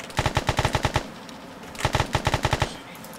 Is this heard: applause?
no